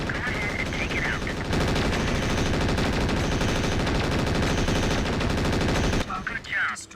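Mech weapons in MechWarrior 4: Vengeance pound a Calliope turret with a rapid, continuous machine-gun-like stream of shots, loud and unbroken for about six seconds before cutting off into quieter rumble.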